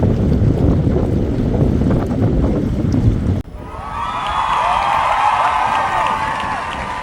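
Strong cold wind gusting across a harbour where anglers are fishing, a loud continuous roar buffeting the microphone, changing to a steadier whooshing with a tonal whistle partway through.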